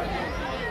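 Street crowd chattering on a busy day, a dense babble of many voices close around with no single voice standing out.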